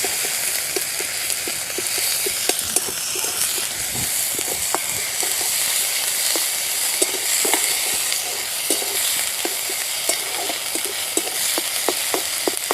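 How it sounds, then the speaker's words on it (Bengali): Chopped onion with ginger garlic paste frying in a pan, a continuous close sizzle broken by frequent sharp ticks and scrapes of stirring, with no one speaking. "মশলাটা খুব ভালোভাবে ভাজা হয়ে গেছে।"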